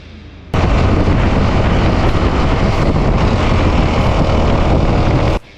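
A Honda Magna motorcycle engine roaring hard under acceleration, loud and close to a wind-buffeted microphone, starting abruptly and holding a dense steady rumble for about five seconds before cutting off.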